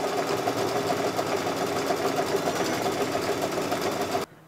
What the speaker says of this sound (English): now it's going to stitch it across here and all the way around the outside of the stocking